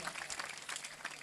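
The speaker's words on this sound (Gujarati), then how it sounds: "જોરદાર તાળીઓ દાદાને વધાવો" An audience claps to welcome an elderly man at a comedy show, a brief, steady patter of applause at a modest level.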